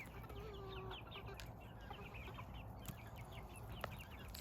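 Backyard chickens cluck and murmur softly at close range, with scattered short calls over a faint outdoor background and no voices.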